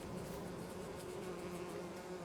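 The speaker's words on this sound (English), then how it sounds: "hopefully we'll see some bees buzzing around." Bees buzz around beehives in Farming Simulator 22, a steady, dense insect drone that holds level and close throughout, with no talking.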